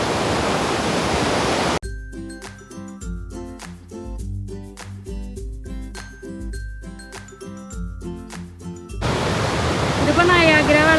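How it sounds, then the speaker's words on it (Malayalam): Great Falls waterfall in New Jersey roars as a loud, dense rush of water at the start, breaks off for a stretch of music, then returns with full force at the end. "ഇതിപ്പോൾ നയാഗ്ര വെള്ളച്ചാട്ടത്തിൻ്റെ ഒരു സൈഡ് പോലെ ഉണ്ടല്ലേ"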